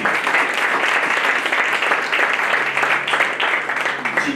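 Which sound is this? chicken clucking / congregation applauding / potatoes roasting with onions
congregation applauding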